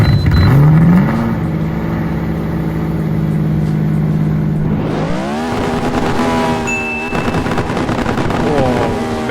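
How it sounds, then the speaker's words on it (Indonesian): A modified car engine revs hard with rising and falling pitch, then settles into a steady loud idle before revving again with crackling exhaust backfire pops. It is close and loud and continuous, with no talk over it. "backfire rasanya mantap nih"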